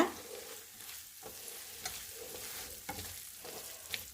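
Garam masala is stirred into chicken tikka masala in a pan, giving a soft, quiet sizzle and fry with a few light scrapes of the spoon, close and alone.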